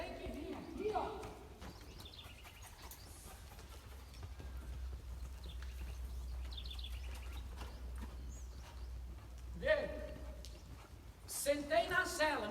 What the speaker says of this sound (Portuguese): Sentei na sela, meu cavalo mudou de marcha, ó, passou para o passo.